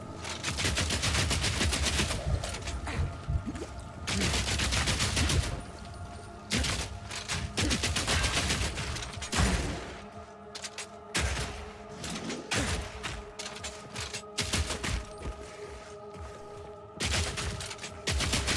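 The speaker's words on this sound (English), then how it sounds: "Every time I shoot him, he shoots me." Gunfire rings out in the shooter game Warrior, with repeated loud bursts and volleys of shots and exchanges of fire that come in dense clusters with brief gaps over about eighteen seconds.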